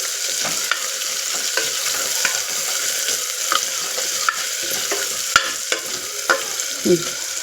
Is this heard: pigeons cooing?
no